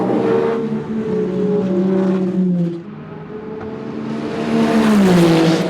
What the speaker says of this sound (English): Giovinazzi goes by Juncadella into turn 1.